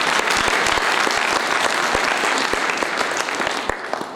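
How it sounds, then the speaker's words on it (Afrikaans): Loud, close applause from a church congregation clapping their hands, a dense continuous patter with a few sharper individual claps standing out, sustained throughout without letting up. "Kan ons Here hande klap?"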